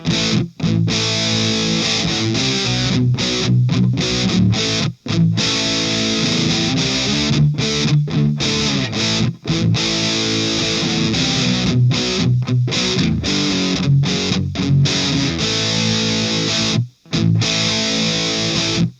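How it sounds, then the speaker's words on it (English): Dense, heavily distorted electric guitar through a JOYO Hot Plexi pedal at full distortion, playing continuously with a few brief gaps between chords, loud and close. "let's do the Plexi distortion all the way up"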